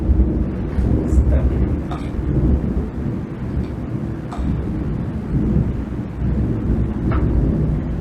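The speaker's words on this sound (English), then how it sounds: "I absolutely hate thunder" Low thunder rumbling continuously through a thunderstorm heard from indoors, with steady background rain noise and a few faint clicks, no clear speech.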